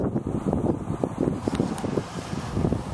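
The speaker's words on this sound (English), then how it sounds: "It's pretty windy." Gusty wind buffets the microphone on an open field at a radio-controlled model airplane flying day, a steady broadband rumble with surging gusts throughout and no voices.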